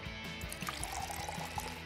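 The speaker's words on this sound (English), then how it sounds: "Add water" Water is poured into a plastic soap bubble bottle holding glitter, a brief close trickle with a steady gurgling fill and faint bubbling.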